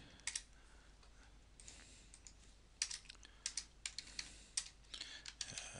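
Quiet keystrokes on a computer keyboard come in irregular bursts of sharp clicks with short pauses between, close and faint, with no voices.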